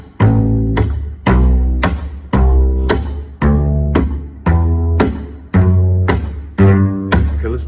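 Slap bass played on an electric bass guitar, thumb-slapped notes starting on G and popped strings, in a steady run of about a dozen punchy, percussive attacks, loud and close with no talking.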